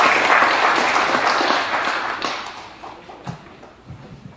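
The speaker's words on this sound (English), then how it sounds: "Could you welcome him with a round of applause?" Audience applause welcoming a speaker at a Korean legal symposium, a dense burst of many hands clapping that starts loud and steadily fades out over a few seconds.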